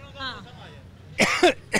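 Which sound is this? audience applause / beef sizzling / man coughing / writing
man coughing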